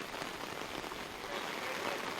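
Heavy rain pouring onto a waterlogged, flooded street in Mumbai: a dense, continuous hiss of drops hitting water, even and fairly soft, with no voices.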